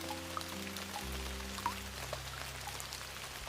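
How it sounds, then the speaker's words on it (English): Gentle rain tapping on a roof, a soft continuous patter of scattered drops over low steady hums, fairly quiet and alone. "rain taps gently on the roof"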